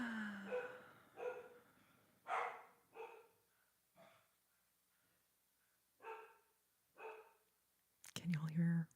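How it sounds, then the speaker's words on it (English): Dogs barking in an apartment complex, heard as a handful of sharp, scattered barks spread across the stretch, faint and some distance off, with a louder burst near the end and no talking over them. "We got some dogs in the complex going crazy"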